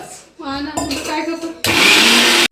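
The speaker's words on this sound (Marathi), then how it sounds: "हे सगळं आता मिक्सरमध्ये वाटून घेते मी बारीक" A kitchen mixer grinder blends a masala of onion, garlic, coconut, cashews and whole spices, starting up in short rising pulses and then roaring loudly and steadily at full speed, close by.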